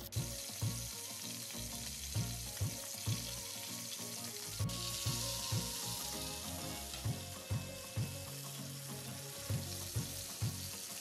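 Fish fries in oil on a tawa for a Bengali masala fish fry, with a soft, steady sizzle and small regular crackling pulses heard alone.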